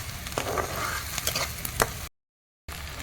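Onions and curry leaves fry in a pan for a tamarind fish curry, with a continuous sizzle and a few clinks of stirring. The sound drops out briefly near the end, then the frying resumes.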